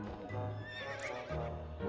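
A horse whinnies loudly in the video game To the Moon, a rising and falling neigh over a low rumble, with hoof clip-clops in the background.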